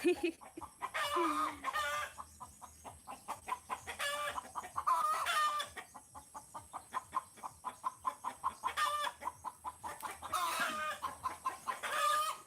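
A hen that has just laid an egg clucks repeatedly in a steady rhythm among other chickens, with a rooster crowing several times over the clucking, all fairly close.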